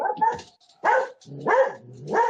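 A dog barks several times in short bursts, close and loud, with brief whimpering sounds between barks.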